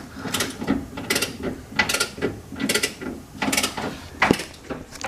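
Ratchet wrench clicking in repeated bursts while roll cage bolts and pinch plates are tightened and torqued in a car, close and fairly loud, about five quick ratcheting strokes with short pauses between.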